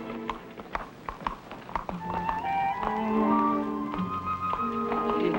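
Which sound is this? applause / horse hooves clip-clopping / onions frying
horse hooves clip-clopping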